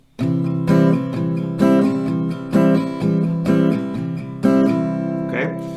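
Strummed acoustic guitar chords ring out in a steady pattern, about eight strokes with a strong accent on each down stroke, close and clear without any talking.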